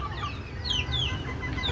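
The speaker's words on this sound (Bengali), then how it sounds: "এগুলো মাংসের মুরগি, আর বাইরে যারা দেখতেছেন ওরা ডিমের মুরগি" Desi chickens raised on a rooftop cluck steadily, with several overlapping hen calls and a few higher squawks over a constant low background hum.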